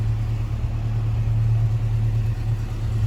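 A 1960 Sunbeam Rapier Mk 3 engine idles steadily at about 1,000 rpm, a low even hum heard up close and alone for a few seconds.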